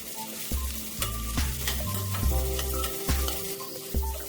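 Finely chopped cauliflower tipped into hot oil with turmeric and chilli powder for a Konkani dish, hissing in a steady close sizzle with repeated scrapes and knocks of stirring throughout, no voices.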